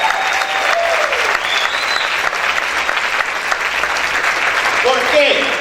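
A church congregation claps loudly for the Lord during a Spanish-language sermon, dense applause filling the room throughout, with a voice briefly rising near the end.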